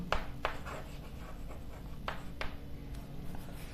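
Pen or chalk strokes of someone writing out a maths ratio, a series of short scratchy marks in irregular bursts, close by and alone with no talk.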